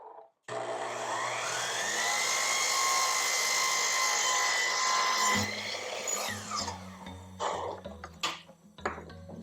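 A miter saw spins up and cuts through a wooden board with a loud, close, sustained whine for about five seconds, then winds down. A few knocks and clatters follow.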